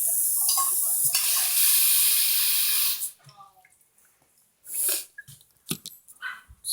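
A tap runs hot and cold into a dog's water bowl as a steady rushing stream for about three seconds, then stops, followed by scattered clinks, splashes and bumps.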